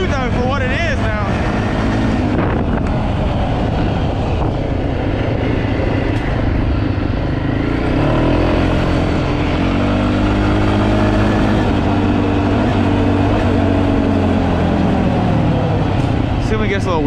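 A Can-Am DS 250 ATV engine revs hard as it climbs a hill, a loud continuous drone rising and falling in pitch throughout, close up with some wind noise and a voice talking over it.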